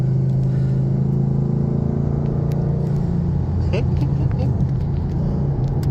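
A 2012 Ford Mustang Boss 302 engine accelerating on a highway, heard from inside the car as a loud continuous low rumble that rises in pitch, with occupants talking over it.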